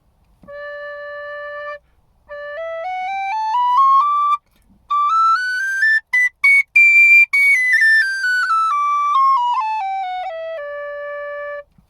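A bright, high D tin whistle plays a simple melody alone, with clear sustained notes rising and falling and a few short quick notes in the middle.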